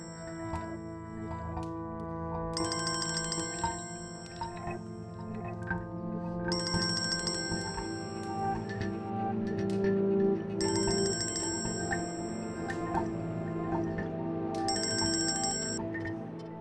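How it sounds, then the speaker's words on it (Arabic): A mobile phone ringtone plays over and over, a bright repeating melodic tone in regular phrases over a steady musical bed, fairly soft, with no voices. "رح ترد على الموبايل؟"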